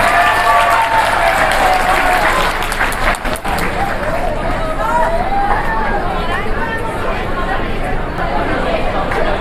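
Students and staff at a school Teacher's Day event clap loudly and continuously, the applause mixed with crowd chatter and cheering close by.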